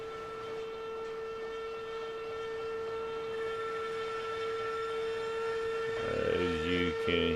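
Locomotive in the RailRoads Online video game powers up, a steady mechanical hum and rumble with a constant tonal whine, swelling near the end with a short whistle-like tonal burst.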